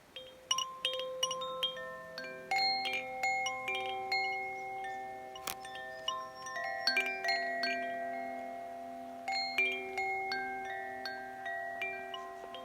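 A Koshi wind chime, likely made in France or Germany, rings with clear sustained bell tones, soft overlapping strikes in an irregular gentle rhythm, sounding close and alone in a quiet garden.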